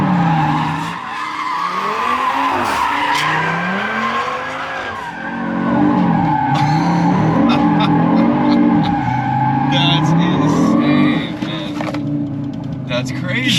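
A 500 hp Audi RS3 in torque rear mode drifting tight donuts in second gear, with its engine droning and tires squealing loudly and continuously. A voice speaks over the sound throughout.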